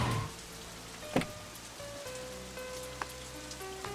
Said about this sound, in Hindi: बारिश आ गई है, चलो।